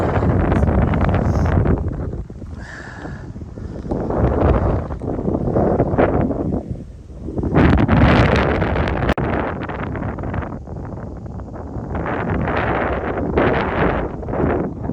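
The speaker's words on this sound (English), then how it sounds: "the wind is crazy here. I don't know if you guys can hear that." Strong wind roars across a microphone on a high cliff top in Black Rock Forest, a loud, continuous buffeting rush that swells and briefly dips with each gust, with no talking.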